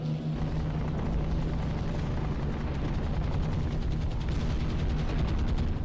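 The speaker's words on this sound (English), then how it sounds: "They are just going to strafe it with its cannons." Rapid cannon fire rattles in a continuous stream from an aircraft strafing in the game War on the Sea, over a low engine drone, the firing growing sharper and denser partway through.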